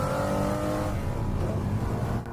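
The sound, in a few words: McLaren F1 V12 engine accelerating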